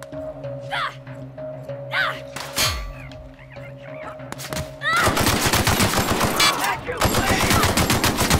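Gunfire from a weapon in the video game The Outer Worlds: a few single shots amid game tones, then a loud sustained burst of rapid automatic fire dominating the last few seconds.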